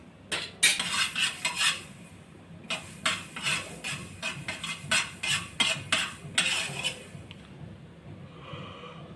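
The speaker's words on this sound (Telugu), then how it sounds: "ఆవాలు వేయించుకుందాం." Mustard seeds dry roasting in a pan, a run of sharp, rattling scrapes and clatters as a spoon stirs them in quick bursts, close and fairly loud, fading out at the end.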